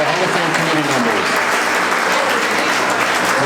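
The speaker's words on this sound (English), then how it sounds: "So let's please give them a round of applause to our Hall of Fame committee members." Steady, dense applause from an audience at a Hall of Fame induction ceremony for the committee members, loud and sustained throughout with a faint voice underneath.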